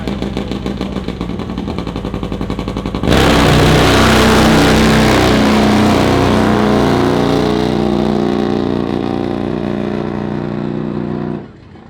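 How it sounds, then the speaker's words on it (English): A nitro-fueled Harley-Davidson V-twin drag bike with no blower, loping unevenly at idle, then bursting into a loud sustained roaring run for about eight seconds before abruptly cutting off. "Nitro Harley Davidson. V-twin. No blower, just nitro."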